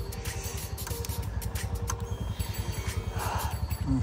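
A motorcycle engine on a Ladakh ride, running after the fuel pump was primed: a close, rapid, thudding idle pulse with some clatter and slight revving that rises toward the end.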